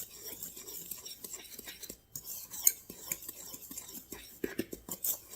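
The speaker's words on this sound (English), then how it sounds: "I'm going to take a fork and I'm just going to kind of mix this" A fork mixing dry ingredients in a bowl for a Fireball whiskey apple cobbler, quick close scraping and clinking strokes in an uneven rhythm, fairly quiet.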